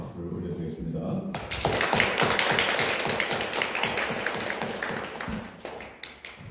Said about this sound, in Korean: 우리에게 생명으로 임하신 그 주님께 다시 한번 영광의 박수를 올려드리겠습니다.